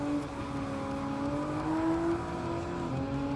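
Nissan GT-R R35 engine in Gran Turismo 7, a steady sustained drone at fairly constant revs, close and continuous with no talk over it.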